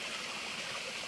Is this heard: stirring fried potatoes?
no